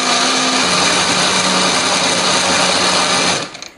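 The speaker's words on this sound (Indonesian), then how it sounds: "semua bahan ini akan kita haluskan ya, termasuk lengkuasnya akan kita haluskan" A blender grinds a chili, ginger and galangal spice paste with a little water, giving a loud, steady whirring drone that runs without a break for about three and a half seconds, then cuts off.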